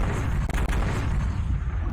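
A muzzle-loading gun fired in a roleplay video game: a heavy, booming report with a low rumbling tail, fairly distant and muffled, with no talking.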